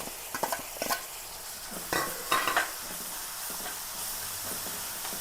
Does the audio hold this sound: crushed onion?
yes